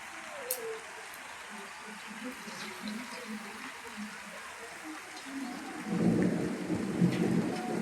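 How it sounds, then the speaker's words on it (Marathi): Heavy rain falls steadily outside a house porch with a constant, moderately loud patter, and low thunder rumbles beneath it, swelling louder toward the end. "हे बघा खूप पाऊस चालू आहे."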